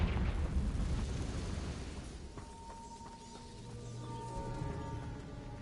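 Confringo fire spell blasting in the Hogwarts Legacy video game, a loud rumbling burst that fades into lingering crackle and a low hum.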